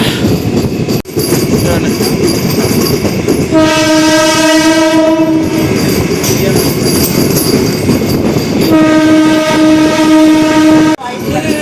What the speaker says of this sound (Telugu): భీమవరం జంక్షన్లో ప్లాట్ఫామ్ నెంబర్ 2 పైకి అయితే మన ట్రైన్ వచ్చింది ఇప్పుడే.